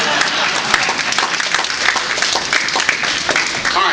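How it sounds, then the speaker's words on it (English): Applause breaks out from an audience partway through a State of the 6th speech, with dense, steady clapping and some crowd murmur holding at a fairly loud level for a few seconds. "You may clap."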